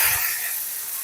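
Thavala adai batter ladled into a hot pan, a brief soft thump followed by a steady close hiss and sizzle that fades slightly.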